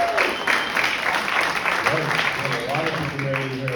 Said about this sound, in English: Clap it up if you're married.